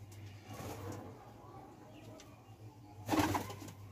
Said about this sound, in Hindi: कबूतर चुग्गा दे रहा है बच्चों को।